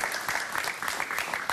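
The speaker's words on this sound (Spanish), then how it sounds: "Un aplauso para él, por favor." A short burst of steady applause from a studio audience, dense clapping filling the moment without pause.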